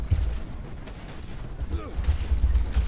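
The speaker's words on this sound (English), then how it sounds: "I do like this, the visceral explosion on these guys" Visceral explosions in the Warhammer 40k Space Marine video game, deep booming bursts and scattered gunfire with rumbling low impacts, building louder toward the end, mixed with some voice-like sound.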